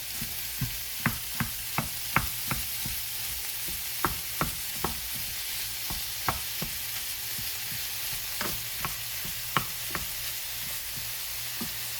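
Meat fries in a pan with a constant sizzle, broken by a dozen or so sharp clinks and scrapes of a utensil stirring, close by and with no talking.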